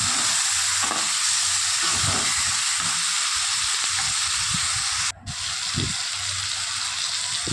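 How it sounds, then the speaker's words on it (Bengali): Vegetables frying with ginger paste and grated tomato in a pan for a light pea dal, a loud continuous close sizzle with soft low stirring scrapes throughout and a brief dip near the end. "এবারে আদা বাটা আর টমেটোটা দিয়ে দেবো।"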